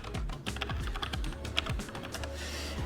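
Quick, light keystrokes on a computer keyboard tap out an irregular run of clicks for a few seconds, close by and fairly quiet, with no one speaking.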